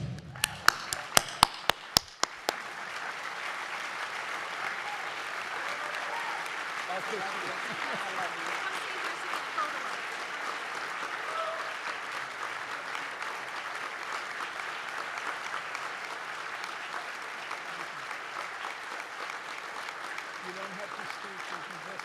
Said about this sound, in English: I want everybody in this room stand and applaud Tawana Tibbs.